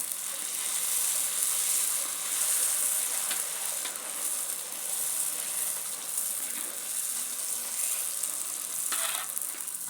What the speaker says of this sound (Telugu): పొగలు నూనె అయితే బాగా వేడిగా ఉన్నదనమాట ఇంకో పూరి వేసేద్దాం